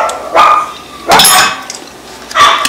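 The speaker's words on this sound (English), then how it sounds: "That's my dogs." Dogs bark in three separate bursts, sharp and fairly close, heard in a home kitchen during cooking with no talk over them.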